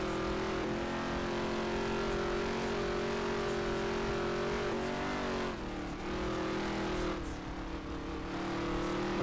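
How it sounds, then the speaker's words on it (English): Race car engine in a racing video game held at maximum RPM, a loud continuous high-pitched whine with steady harmonics, briefly dipping and recovering midway, with no talk. "I've maxed out my RPMs"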